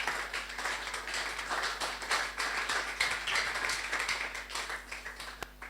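A church congregation applauding, many hands clapping in a dense steady patter that carries on for several seconds, moderately loud and without speech.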